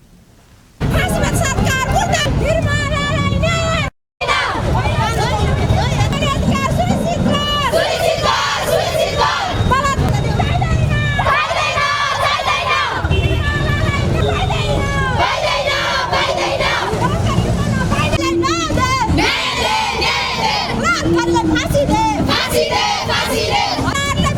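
A large crowd of protesters chants and shouts slogans together, demanding justice over a girl's rape and murder, loud and close with overlapping voices in rhythmic bursts throughout.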